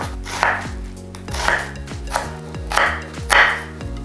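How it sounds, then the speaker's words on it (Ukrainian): A knife chops onion into medium cubes on a board, with four bursts of quick, close chopping strokes at a steady rhythm and short pauses between them. "Починаю, друзі, з нарізання цибулі."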